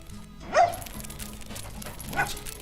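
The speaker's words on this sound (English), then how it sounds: "Just quit your barking for a minute." Dog barking in the Agricultural Simulator Historical farming game, two short yelping barks about a second and a half apart over quiet background hum.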